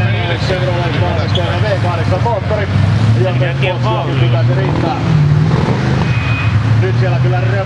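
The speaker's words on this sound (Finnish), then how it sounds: "Mutta edessä on noin 7-litrainen Chevrolet valmisteinen V8 moottori, joten pitäisi riittää." A roughly 7-litre Chevrolet-built V8 in a trial vehicle rumbles loudly and steadily, with the engine note rising and falling over the run and chatter mixed in.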